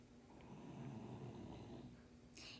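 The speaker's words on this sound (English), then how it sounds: "a dog named Lucy, she's sitting next to me, and you might hear her snoring once in a while" A dog named Lucy snores softly nearby indoors, a faint, low rasping breath drawn out over a couple of seconds, with a brief higher hiss near the end.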